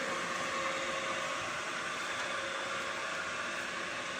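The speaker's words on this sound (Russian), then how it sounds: "Станок работает как песня." Pipe bending machine running on 80 by 60 mm profile tube, a steady even mechanical hum with a broad hiss, constant and close.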